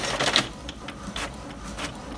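An Epson printer printing double-sided pages, giving soft rhythmic mechanical whirs and paper-feed swishes that recur every half second or so at a moderate level, close by with no talk.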